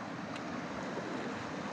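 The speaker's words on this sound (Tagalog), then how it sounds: "Lakas ng agos." A strong river current rushes steadily at a riverside stop in a barangay, with dense, continuous broadband noise throughout and nobody speaking.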